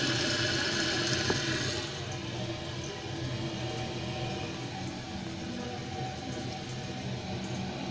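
A 2008 Kohler Kelston toilet with a 1.28-gallon flush: a loud rushing flush in the first two seconds gives way to a steady, softer gurgle as the tank refills, heard up close.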